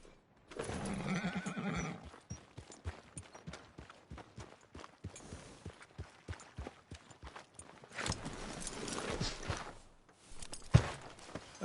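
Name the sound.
horse neighing and walking in the video game Red Dead Redemption 2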